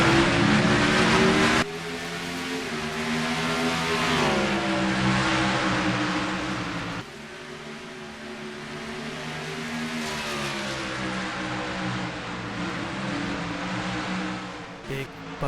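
A pack of stock cars in a sim racing game at North Wilkesboro roars off on a green-flag restart, engines revving and climbing in pitch together, loud and continuous with brief cuts, under a commentator's talk.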